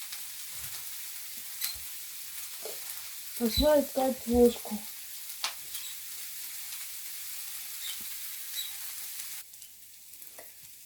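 Eggplant frying in a pan for soup sizzles quietly in the background while someone talks briefly and a few clinks and stirring scrapes sound near the middle.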